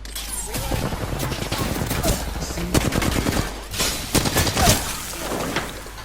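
Rapid automatic gunfire in the video game Apex Legends during a fight against a shielded enemy, dense repeated bursts of shots close and loud, continuing over several seconds with brief gaps.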